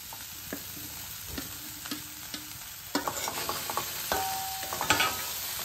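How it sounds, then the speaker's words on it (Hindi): Paneer cubes get stirred into sprouted chickpeas in a hot pan, giving a soft continuous sizzle with repeated scraping and clicking strokes of a spoon that grow a little louder toward the end, with no voices. "अब हम इसमें मिक्स कर लेंगे पनीर, जो कि छोटे छोटे क्यूब्स में हमने काट लिए हैं"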